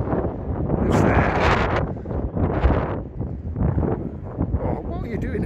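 Gusty wind buffets the microphone in heavy, uneven bursts on the Blackpool promenade near Foxhall Road, rising and falling while people talk faintly underneath.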